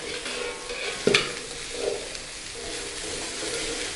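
Vegetable stems stir-fried in a pan, a continuous moderate sizzle with a sharp utensil knock near the start and soft stirring scrapes afterward, no talking.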